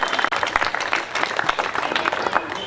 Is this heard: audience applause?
yes